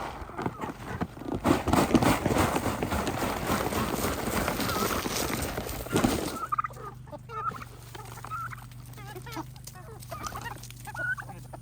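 Turkeys gobble loudly amid a noisy farmyard clatter, then the din drops and scattered bird calls continue over a steady low hum.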